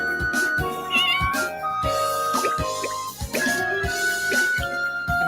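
Cartoonish cat meowing in a farming video game, several short pitched meows over bouncy game music with plucky, drip-like sound effects, clear and upfront.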